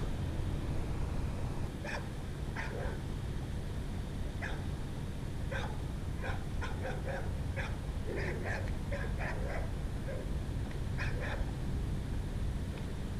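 Dogs bark in short repeated bursts while chasing a pelican on a hillside by an intracoastal waterway, with steady wind or water noise underneath.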